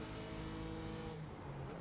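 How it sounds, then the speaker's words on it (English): Race cars in the iRacing sim at Spa roar past in a dense group, engines droning loudly and continuously with shifting pitch as the faster cars close in. "There's a group of faster cars bearing down on you."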